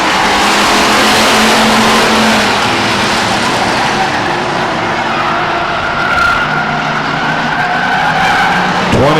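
Race cars at Stockton 99 Speedway, a short oval track, loud and close, engines roaring continuously while tires skid and squeal as the cars slide through the turns, with no voices.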